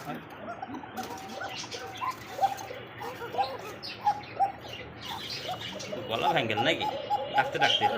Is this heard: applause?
no